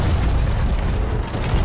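A dense, continuous booming rumble of heavy cannon fire from the video game Sea of Thieves, loud and sustained with no pauses.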